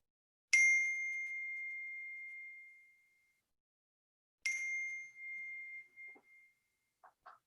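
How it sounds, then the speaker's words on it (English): Phone notification chime, two clear bell-like dings about four seconds apart, each ringing out and slowly fading in near silence, followed by a few faint soft clicks. "I actually did just play a notification sound"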